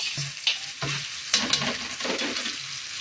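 Vegetables being sautéed for pancit, a Filipino noodle dish, sizzle steadily in a hot pan up close, with stirring scrapes and utensil clinks breaking through now and then; no one talks.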